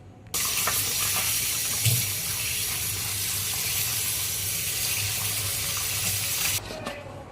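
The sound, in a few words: washing broad beans (chikkudukaya) in water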